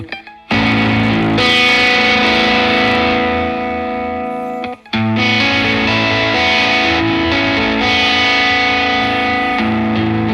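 An instrument runs through a Warm Audio Silver Centavo overdrive pedal at maximum gain, a loud, thick, saturated sustained tone that cuts out briefly near the middle and then returns just as dense.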